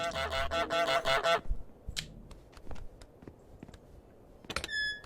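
The goose in Untitled Goose Game honks in a rapid burst of loud, close calls. Scattered soft clicks and taps follow, then a short, bright tonal sound at the end.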